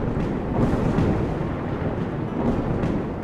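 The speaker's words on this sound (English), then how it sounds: "Another tremendous storm." A storm in Life is Feudal: Forest Village gives off a steady, loud low rumble of rain and distant thunder that rolls on without a break and with no voice over it.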